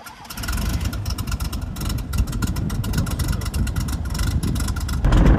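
A Grob 109 motor glider's engine runs at a steady, fairly quiet drone close by, with a slight surge in level near the end and no talking.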